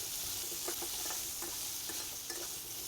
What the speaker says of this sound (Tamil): வெங்காயம் நல்லா கிளாஸியாக மாறணும், அது வரைக்கும் நம்ம இதை மிக்ஸ் பண்ணிக்கலாம்